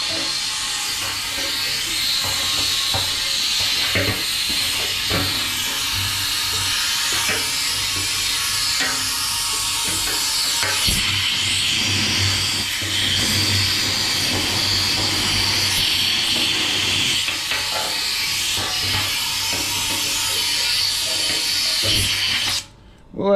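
Carburetor cleaner sprayed onto a generator carburetor gives a steady, loud aerosol hiss that runs almost unbroken for over twenty seconds, with faint clicks beneath it and a brief drop near the end.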